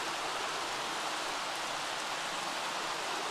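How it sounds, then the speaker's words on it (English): Steady, dense rainfall hiss in The Sims 3, continuous and fairly loud, with no break. "Oh, I wish it wouldn't be raining."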